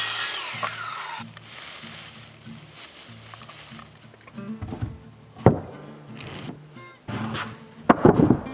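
A hammer strikes nails into wood framing during wall construction, a few sharp, irregular knocks mixed with rubbing and handling noises nearby.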